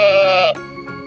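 A sheep gives one loud, close bleat lasting about half a second, followed by a softer, shorter trailing bleat, with no other sounds.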